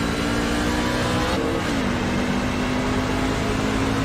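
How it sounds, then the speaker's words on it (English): Race truck engine roaring in an iRacing NASCAR-style truck race, a loud continuous drone with a steady pitch that dips briefly as the truck shifts and then holds at a lower level, with no voices over it. "You can hear that motor still kind of sounds a little bit on the sourer side"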